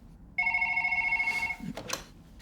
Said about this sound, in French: Le téléphone jaune sonne.